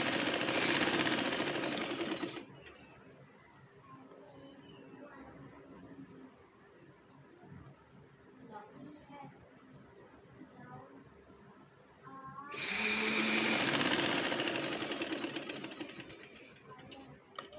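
A sewing machine stitches black trousers in two loud, steady close-up runs at the start and end, with a quieter stretch between where someone speaks.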